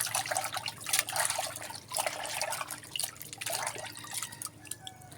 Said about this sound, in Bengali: পানি দিয়ে একটু ভালো করে ধুয়ে নিলেই হয়ে যাবে।